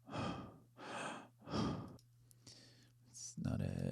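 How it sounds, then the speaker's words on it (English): A person breathes close into a microphone, making three loud rhythmic exhales followed by softer breaths, a faint click and a final breathy rush, with no speech. "character sounds, breathing, just me breathing."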